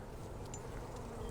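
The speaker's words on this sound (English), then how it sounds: "we got a decent amount of bees right in here" Honey bees in a hive with a drone-laying queen give off a faint, steady, low buzzing, close by and continuous.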